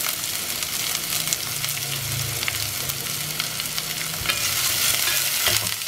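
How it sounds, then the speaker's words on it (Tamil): A medium-sized onion sautés in hot oil with spluttering cumin, giving a steady, close hiss of sizzling and crackling that carries on without pause and without voices. "நல்லா இப்போ வதங்கட்டும்."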